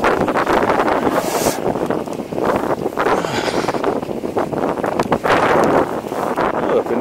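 Cold wind buffets the microphone during an e-mountain-bike ride through heavy snow on the Anninger, a steady loud rushing roar with gusting swells that never lets up.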